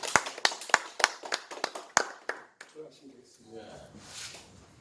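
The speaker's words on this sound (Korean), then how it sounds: "우리 박수로 한번 맞으시죠" Applause welcoming a speaker at a press conference: a short burst of claps up close, fading after about two seconds as talking and room murmur take over.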